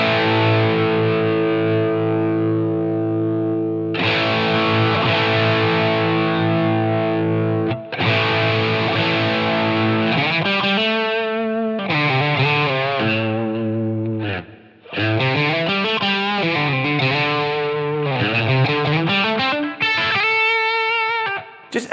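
Distorted electric guitar through a Line 6 Helix tape echo, saturation at 0.5 and tape speed 30 inches per second, playing sustained chords and bends, thick with saturated repeats, loud and continuous with brief pauses between phrases.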